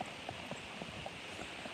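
Horse hooves clip-clop in a steady, even rhythm during a horseback ride, a run of soft, regular thuds heard near the rider over constant background noise.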